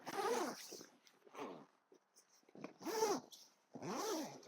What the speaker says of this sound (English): Let's get a zip going.